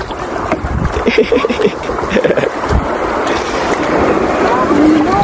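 A motorboat engine drones steadily while crossing a river amid wind buffeting and splashing, with people talking and calling out nearby.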